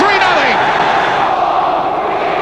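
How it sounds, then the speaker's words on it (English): Football crowd at a match where the home side leads 3-0, chanting loudly and continuously for a fourth goal, a dense, sustained roar of many voices with a rising shouted chant near the start. "We want 4 is what the crowd is shouting."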